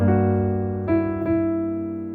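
A sustained chord rings out, with two softer notes changing the harmony partway through before it fades gradually.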